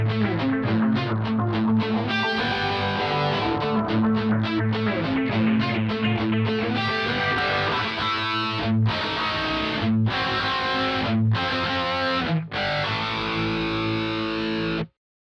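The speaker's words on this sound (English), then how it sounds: "And now the dry-wet-dry mix." Distorted electric guitar through a dry-wet-dry stereo delay mix, playing a busy chordal riff with fast strummed attacks, then sparser sustained chords separated by short gaps, loud and alone.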